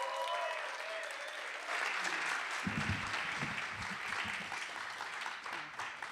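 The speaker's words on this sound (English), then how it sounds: "Can we give a round of applause for Faiza, please?" Applause for a poet called to the stage at an online poetry jam, continuous steady clapping from a small audience with a low murmur of voices joining partway through.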